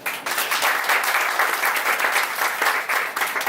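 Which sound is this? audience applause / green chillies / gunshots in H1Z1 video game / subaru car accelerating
audience applause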